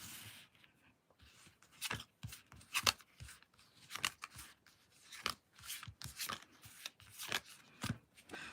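Tarot cards are shuffled and drawn by hand, with close, crisp riffling and slapping bursts repeating in an uneven rhythm throughout and no talking.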